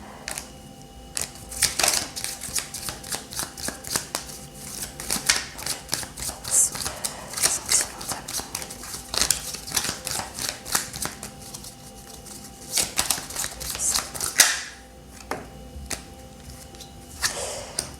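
Tarot cards are shuffled for a reading in repeated quick riffling bursts, crisp and close, continuing over roughly eighteen seconds with brief pauses.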